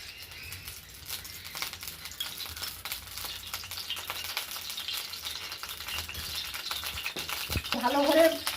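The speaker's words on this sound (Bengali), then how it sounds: "এবার তেল দিচ্ছি।" Cooking oil poured into a hot wok, a soft crackle and sizzle that builds toward the end with a few clinks and rattles, while voices talk faintly in the background.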